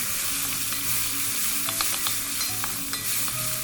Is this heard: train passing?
no